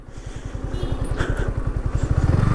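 A Yamaha R15 V4 sports motorcycle being ridden, its engine thumping in a steady, close pulse that grows slightly louder as revs build toward the end, with no talk over it.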